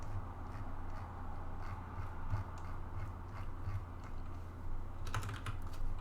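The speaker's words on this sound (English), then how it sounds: "My typing is not good today." Fast, uneven typing on a computer keyboard while programming a JavaScript graphing calculator, a continuous patter of close, soft key clicks over a low steady hum.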